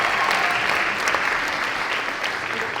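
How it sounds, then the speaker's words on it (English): An audience at an awards night in Liverpool claps steadily and evenly, a dense sustained applause filling the whole stretch without letup. "give yourselves a big round of applause"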